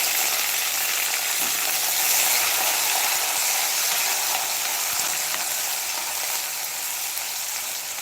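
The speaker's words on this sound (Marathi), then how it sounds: "तेलामध्ये छान असा टोमॅटो चिरकून घ्यायचा" Chopped tomato sizzles and fries in hot oil in a home kitchen pan, a steady dense hiss running throughout with a few faint stirring scrapes, no voices.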